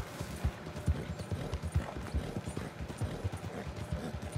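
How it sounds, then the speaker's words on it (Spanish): Horses gallop in the video game Red Dead Redemption 2, giving a quiet, rhythmic clip-clop of hooves that repeats through the whole stretch over a low background. "Es que, tío, siguen viniendo a caballo"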